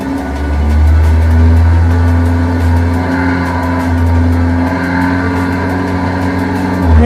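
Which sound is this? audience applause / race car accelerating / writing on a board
race car accelerating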